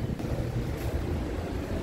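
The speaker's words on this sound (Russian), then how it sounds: "Боже, такой ветер" Strong wind in Dubai buffets the microphone with a steady, heavy roar, no speech, continuous for the whole stretch.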